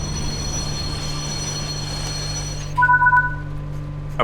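Class 78 electric train in the Train Sim World 5 game slowing under braking, a steady rolling hum and whine giving way to a brief pulsing squeal and tones as it comes to a stop.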